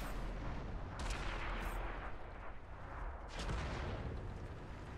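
Artillery fire in a war video game, with booming shots around one and three seconds over a constant low rumble of battle noise, moderately loud and alone without speech.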